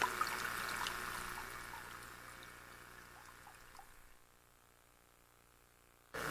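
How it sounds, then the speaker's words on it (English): Small stream trickling near a mine dump, a steady soft flow of running water that gradually fades quieter, with a sudden burst of noise at the very end. "Here we're along the little stream."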